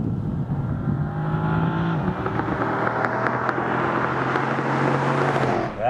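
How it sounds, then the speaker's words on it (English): Dodge Charger SRT with a 6.4-liter Hemi V8 accelerating hard, engine tone climbing through gears with a loud, close roar and wind noise, no talking. "I apologize if that was you that I cut off, but man, is this car fast."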